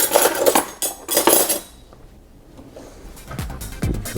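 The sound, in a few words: small spoon clinking against dishes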